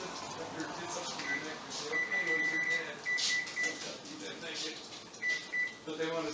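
Control beeps from a kitchen oven being set to preheat to 400, several short electronic tones in a row amid kitchen clatter and a person talking.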